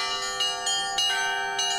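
Church bells ring at a bell-ringing festival in Alekseevsky district, Russia, several tuned bells struck in a quick repeating pattern with long overlapping resonant tones, steady and fairly close, no voices.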